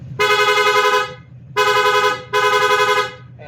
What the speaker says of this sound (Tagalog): stock horn, tas switching siya, Pia horn